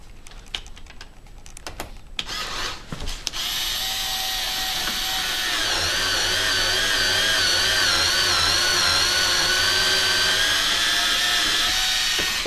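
Lapua rifle brass cases being trimmed for reloading: a few clicks and handling clatter, then a steady whirring motor-driven cutting sound that runs continuously and fairly loud up close.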